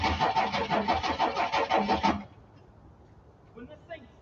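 A hot rod car engine cranks rapidly for about two seconds in a loud, rhythmic starter whir, then cuts off, leaving quiet shop noise behind.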